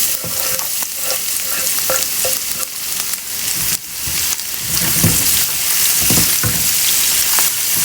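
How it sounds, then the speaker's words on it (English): Garlic and asafoetida (hing) sautéing in hot oil for a Gujarati sabji, a steady close sizzle with frequent crackling pops and occasional stirring scrapes, no talking. "I'm just gonna let this saute just for a minute or so."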